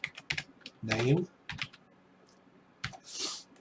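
Computer keyboard keys tapped in a short burst of clicks while a voice talks over and around them, followed by a few scattered, fainter keystrokes.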